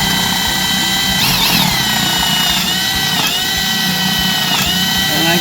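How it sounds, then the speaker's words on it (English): A power drill whines steadily at close range while boring a hole in wood for a bird house, with a continuous motor hum and slight pitch dips as the bit bites. "Now I can start drilling my hole, and I just go slow."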